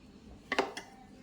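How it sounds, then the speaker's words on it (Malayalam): Cauliflower being mixed into batter for gobi manchurian in a bowl produces a quick cluster of a few close metallic clinks and scrapes against the bowl, then fades to quiet. "ഇനി ഇതിനകത്ത് കോളിഫ്ലവർ ഇട്ടിട്ട് മിക്സ് ചെയ്യാം"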